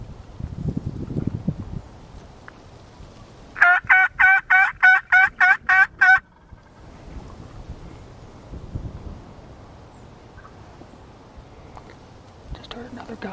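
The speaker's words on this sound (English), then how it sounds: "Just heard another gobble." A wild turkey gobbles in a clear rapid burst of about eight rattling notes, fairly close, after soft talk and wind noise; quiet outdoor ambience follows with faint voices.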